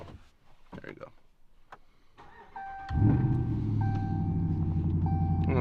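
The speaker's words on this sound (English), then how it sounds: "Here's a cold start for y'all." From inside the cab of a Ram pickup truck, the engine cold-starts with a brief crank and catches into a loud, steady idle rumble; a few indistinct noises come before it.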